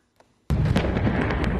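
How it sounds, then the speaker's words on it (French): A cannon salute fired at a state funeral honouring Marshal Idriss Déby, with one loud, close boom bursting suddenly after near silence and rolling on without a break. "21 coups de canon pour saluer la mémoire du maréchal Idriss Déby"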